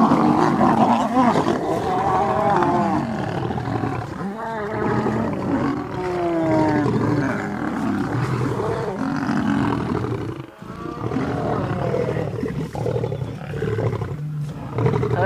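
Male lions fighting on safari let out loud, close roars and deep guttural growls that rise and fall in repeated bursts, with a brief pause and crackle near the end.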